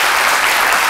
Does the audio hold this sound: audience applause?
yes